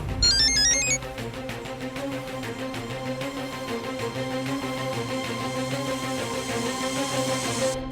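A mobile phone ringtone plays loudly and steadily, a repeating melodic tone pattern that loops continuously for several seconds after a brief bright chime at the start, with no voices.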